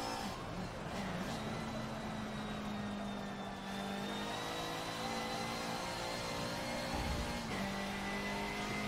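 Race car engine carrying speed through a track corner, a steady loud drone with a sustained harmonic tone that dips as the car turns in off throttle, then rises again, close and continuous with no talk.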